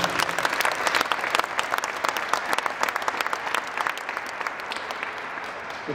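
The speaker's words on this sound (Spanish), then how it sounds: "un aplauso para él" An audience gives a round of applause for a visiting guest. Many hands clap in a steady, moderately loud burst that holds evenly for about six seconds without talk on top.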